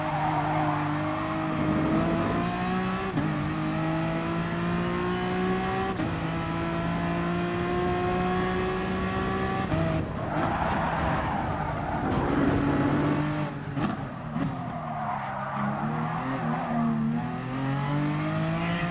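Race car engine in GT Sport revving hard and accelerating out of a corner, rising through repeated gear-like sweeps with tire squeal and skidding, loud and continuous for the whole stretch.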